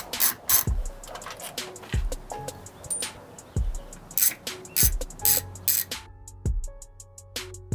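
Someone works a ratchet on the bolts of a car's air filter box, making close, sharp clicking in short bursts broken by brief pauses and light handling knocks.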